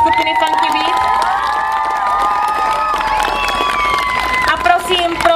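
A crowd cheers, whoops and applauds continuously at an International Dance Day event with a dance group in Frýdek-Místek, loud and sustained with children's shouts mixed in.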